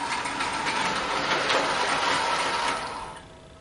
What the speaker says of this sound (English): that is my Thomas the Tank Engine Lionel O-Gauge train set that I've had since childhood